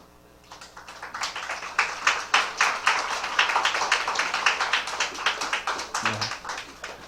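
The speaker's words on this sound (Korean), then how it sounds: "엄마 아빠가 나온다고 애들이 박수를 막 치고 있네요" Children clap in a church during a revival service as their parents come forward, a brisk, uneven patter of many small hands that swells and holds steady at moderate loudness.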